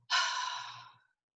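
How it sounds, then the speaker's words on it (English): A single forceful exhale during a tense-and-release breathing exercise in a guided meditation, a loud close breathy rush lasting about a second that trails off into silence. "and really forcefully exhale"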